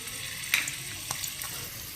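Chopped garlic fries in a little oil, a soft, steady sizzle with a few faint stirring clicks, no talking.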